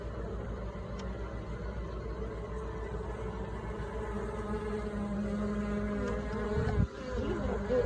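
Honeybees drone at an open hive during May beekeeping in southeast Alabama, a close, continuous buzz with individual bees whining past, alone without talk.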